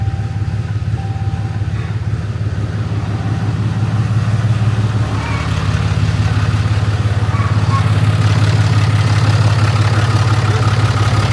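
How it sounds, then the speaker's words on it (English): Diesel pickup truck engine cold-starting and idling after an intake manifold, exhaust, grid heater and EGR delete, a steady loud rumble close by that grows slightly fuller and rougher midway through, with no talk over it. "Now this motor is a little loud at a cold start."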